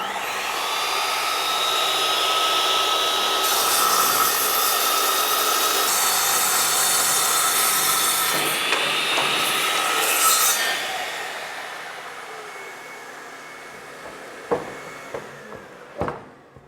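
A saw router used like a large sliding miter saw spins up and cuts through wood with a loud, steady, high whine for about ten seconds, then winds down, followed by a few sharp knocks.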